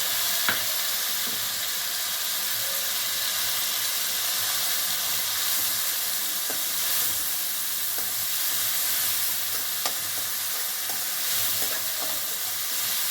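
Dry prawns, cleaned of fine sand, fry in a pan with a steady, close crackling sizzle and hiss that runs without pause, broken by occasional light scrapes and clicks of stirring.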